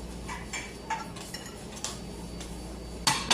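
Dishes being washed by hand: plates and pots clink and knock at irregular intervals over running water, close by and fairly quiet, with a sharper clatter near the end.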